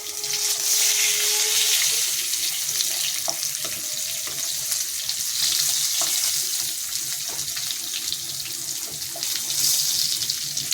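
Whole cumin and potatoes fry in hot oil with a steady, close sizzle. The frying carries on alone throughout, with faint clinks and stirring scrapes.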